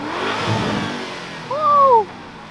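A Ferrari 430 Scuderia revs on the street, its engine note climbing sharply in one short, loud burst above a steady background of traffic and crowd noise.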